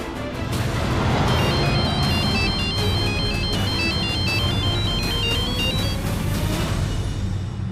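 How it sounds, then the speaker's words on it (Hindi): A mobile phone rings with a looping electronic melody, loud and continuous over a noisy background with no one speaking. "ध्रुव भैया का फोन"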